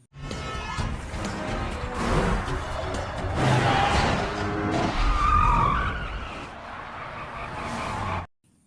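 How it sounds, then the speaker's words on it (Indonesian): Tires skid and squeal as cars race through a film chase scene, a loud, sustained screech with engine roar that holds for about eight seconds before cutting off abruptly. "Namun Mei dan Tommy mengejar mereka dengan mobilnya. Terjadi kejar-kejaran di antara mereka."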